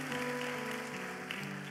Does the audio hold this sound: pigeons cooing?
no